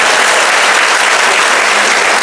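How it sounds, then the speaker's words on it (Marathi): Steady, loud applause from a crowd at a teachers' honour ceremony, close and continuous clapping that runs unbroken from start to finish, with no talking over it. "आणि आता एकदा टाळ्या होत्या माझ्यासाठी."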